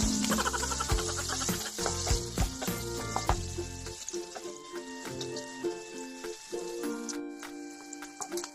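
Onion and garlic sauté in hot oil in a pan for a Filipino squash and chayote dish, with a steady close sizzle and faint ticking stirs under background music.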